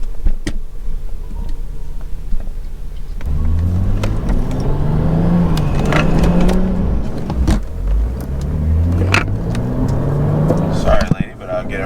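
A car on Vorsteiner wheels pulls a U-turn and accelerates, its mid-range engine note rising and falling through two revving pulls, with someone talking over the drive and brief clicks and thumps from the cabin.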